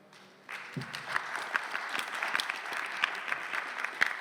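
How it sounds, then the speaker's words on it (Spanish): Applause breaks out from a seated audience at a cultural panel discussion, starting abruptly after a brief lull and continuing steadily with scattered sharper claps, moderately loud with no voices over it. "Un aplauso, por favor."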